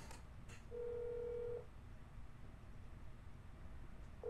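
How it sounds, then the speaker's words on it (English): A single keypad tone sounds in That's Not My Neighbor, apartment phone dialing over a low background hum, with a second short tone starting at the very end and faint clicks before. "Let's find out."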